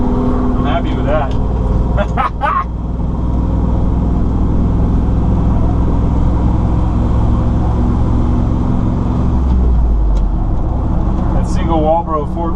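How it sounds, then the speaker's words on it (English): A car with a turbocharged 460 engine accelerates hard on dry pavement, spinning its tires at 60 mph. A loud, sustained engine roar fills the whole stretch, with a voice talking over it. "Spinning the tires at 60 on dry pavement."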